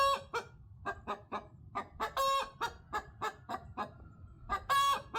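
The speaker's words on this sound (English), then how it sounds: "This is the first time I've heard him crow." A young rooster crows in short, rhythmic bursts of clucking and strained calls, close and fairly loud, about a dozen pulses with no talk over them.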